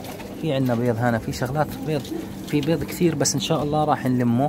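Pigeons cooing in a pigeon loft, soft and close, mostly masked by someone speaking Arabic throughout.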